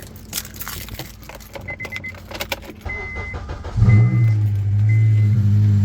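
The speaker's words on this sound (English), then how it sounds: "Just watch how loud this car is." A slightly modified Honda Civic starts up and idles loudly with a deep, steady rumble after a few seconds of clicks and rattling.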